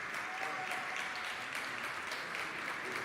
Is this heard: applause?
yes